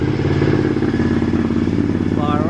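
Small motorcycle engine idling just after being started with the choke out, a steady low, close-up chugging throb that stays even throughout, with a voice talking over it near the end.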